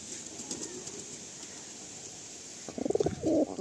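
White Madrasi pigeons coo in a few soft, throaty pulses near the end, over a steady background hiss.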